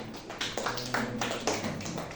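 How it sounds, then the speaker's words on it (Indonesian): A small audience at a teacher-training workshop gives Pak Bayaki a brief round of applause, a few soft, scattered claps in a quiet room that fade within about two seconds. "Kasih tepuk tangan buat Pak Bayaki."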